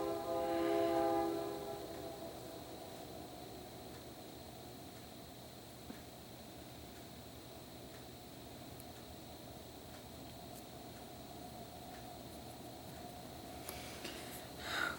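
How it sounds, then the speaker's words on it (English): Train in the distance behind a backyard, with a horn sounding near the start followed by a steady low rumble, under a faint continuous layer of crickets and night insects, fairly quiet overall. "you hear the train and the crickets in my backyard"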